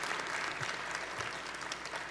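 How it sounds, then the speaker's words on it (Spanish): Audience applause at a forum's closing event, a steady wash of many hands clapping at moderate level with no voices breaking through for the whole stretch. "Otro aplauso para Ariel, pues"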